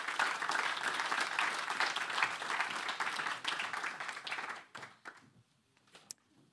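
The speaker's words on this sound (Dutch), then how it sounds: "geef ze een warm applaus." Warm audience applause at a panel session on green pension transition, dense clapping that holds steady, then thins out to a few scattered claps and fades near the end.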